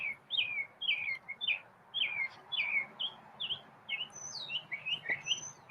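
A mockingbird sings a steady run of varied, whistled chirps and short phrases over faint outdoor background hum, fairly close and clear.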